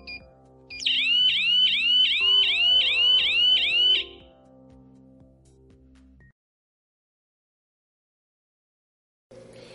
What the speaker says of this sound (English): It comes with an optional alarm that will activate when motion is detected.